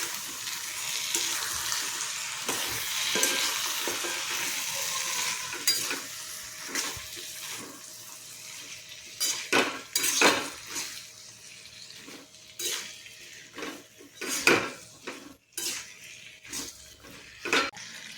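Drumstick and potato curry masala stirred in a pan on the stove, with a steady sizzle and repeated scraping and clinking of a spoon against the metal, close and fairly loud.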